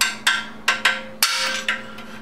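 An old bearing race is hammered out of a 1973 Honda CB750 frame with five sharp metallic strikes at uneven intervals, close and loud, each ringing briefly over a steady low hum.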